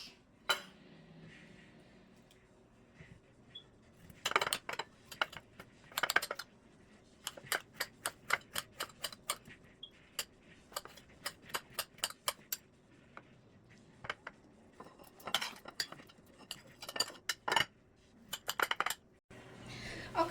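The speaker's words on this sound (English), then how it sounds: "We're going to dice these so they're not too big, just medium sized" A knife dices garden potatoes and green beans on a cutting board, with quick rhythmic bursts of sharp taps in clusters, near and fairly quiet, separated by short pauses.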